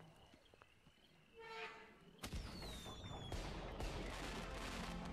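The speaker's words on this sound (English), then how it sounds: "Hey, fireworks." In the video game HappyFunland, fireworks go off after a quiet stretch: a sharp bang and a whistling rise, then a sustained crackling barrage. The bursts are fairly faint and heard without talk.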